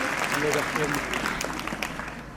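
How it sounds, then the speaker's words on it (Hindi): Applause for a school's prize winners at a Yatharth Geeta competition held on Children's Day, a steady mid-level clapping from a seated audience with faint voices beneath it. "इनके लिए जोरदार तालियां।"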